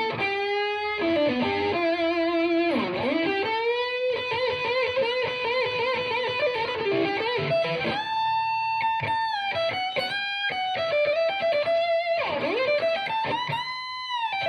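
Epiphone 1959 Les Paul Standard electric guitar through an amp set to high gain with treble, middle and bass around two o'clock and a touch of reverb, playing loud sustained distorted notes and bends continuously, close and alone.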